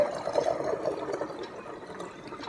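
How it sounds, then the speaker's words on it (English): Water pours steadily through a funnel into a glass bottle, a continuous close gurgling trickle that gradually eases in strength, with no voices. "So first of all we'll pour water into this bottle."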